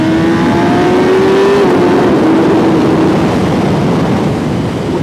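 A 2019 Kawasaki Ninja ZX-10R KRT sport bike with finger-follower valve train revs hard and close, a loud continuous engine roar whose pitch climbs and dips across the stretch, with no talk.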